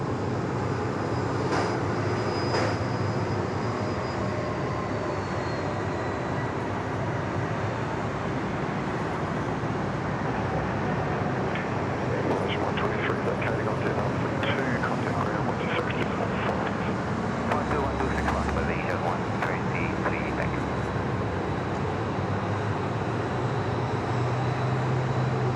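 Aircraft engines roar steadily at Sydney Airport as planes taxi and move about, a broad continuous rumble with distant whines, someone talking over it at times.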